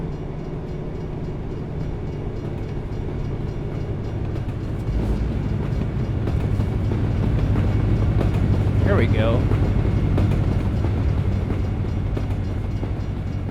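A Union Pacific train rumbling past in American Truck Simulator, with a steady rolling roar and clatter that swells louder, while someone speaks briefly over it.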